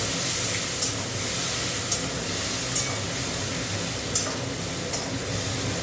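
Masala with Kashmiri chilli powder and salt sizzling steadily as it is sautéed in a pan, a continuous close frying hiss with a few brief louder spits and no talking.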